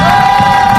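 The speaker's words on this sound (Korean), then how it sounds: "큰 박수로 모셔보도록 하겠습니다" A large outdoor protest rally crowd in front of a government complex cheers and applauds in a loud, dense, continuous roar.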